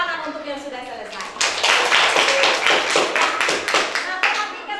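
Classroom students clap for finished groups: a brief speaking voice gives way to a burst of loud, rapid, uneven handclaps from a group of children, sustained for several seconds and tapering slightly near the end.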